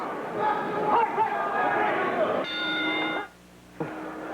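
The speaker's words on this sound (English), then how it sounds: "The bell in 3 seconds." A boxing round bell at the Trevor Berbick versus Renaldo Snipes heavyweight fight rings a sustained metallic tone over crowd noise, following a stretch of commentary and then briefly dropping out before a second short strike.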